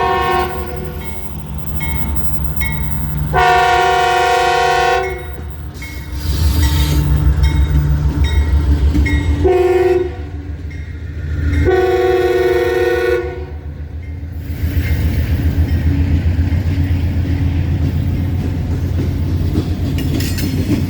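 CSX M645 freight train with a four-locomotive lash-up led by two CW44AC engines passing Pelham, loud and close, with long horn blasts sounding in several bursts over a rumbling, rolling engine roar.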